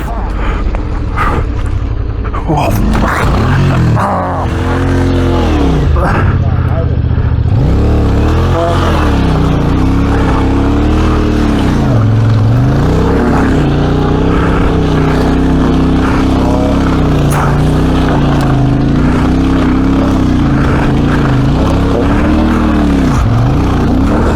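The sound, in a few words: Royal Enfield Himalayan adventure motorcycle riding off-road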